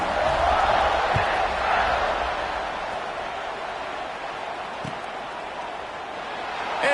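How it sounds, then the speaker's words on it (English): Steady roar of a large football stadium crowd buzzing before a kickoff, a broad, continuous wash of distant voices that swells at the start and again near the end, with a few faint thumps. "this crowd is buzzing after that last score"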